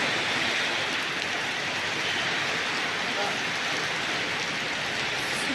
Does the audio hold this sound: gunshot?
no